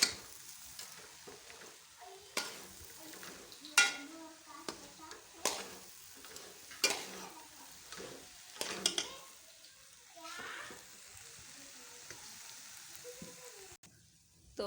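Makhani halwa is stirred and roasted in a pan, with repeated close scraping strokes and soft sizzling that come in irregular bursts over a quiet background.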